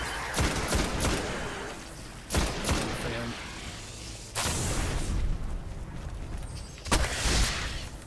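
Gunfire from the video game Destiny: several sharp loud bursts at irregular intervals over a steady game soundscape, with brief lulls between volleys.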